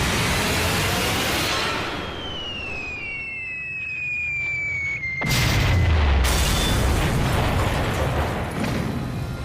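Heavy WWII bombs exploding across a rail yard after a whistling descent, with a deep, loud rumbling boom that swells and lingers, a second burst striking partway through.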